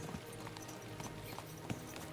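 Galloping horses in Kingdom Come: Deliverance II, a continuous rolling patter of hoofbeats at moderate loudness with a few sharper thuds, steady rhythm throughout and no speech.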